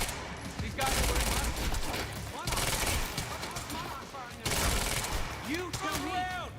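Bursts of automatic gunfire erupt in the video game Quantum Break, rapid volleys coming in three loud stretches with brief lulls between, while voices shout over the shooting.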